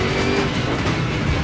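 Ford V8 engine of a Panoz Esperante in the Automobilista 2 racing game, a steady continuous drone that holds at one loudness throughout, with no talk over it.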